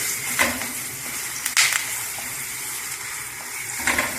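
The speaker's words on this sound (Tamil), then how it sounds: "கருவேப்பிலை போடுறேன், இந்த அரைச்ச விழுதை ஊற்றி கொஞ்சம் கிளறிக்கிறேன்." Ground paste with curry leaves is stirred in a pan, giving a low steady sizzle with a few scattered scrapes and clinks, fairly quiet and with no talking.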